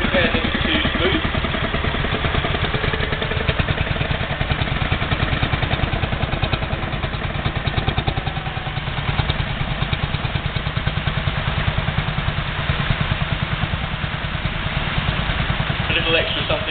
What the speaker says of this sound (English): we do have a splendid display of classic motorcycles with us today